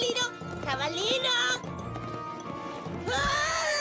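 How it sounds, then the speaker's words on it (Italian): Cartoon horse whinnying in a children's animated series, with bright wavering neighs near the start and again at the end, separated by a quieter stretch with a steady tone. "Dove stai andando, cavallino?"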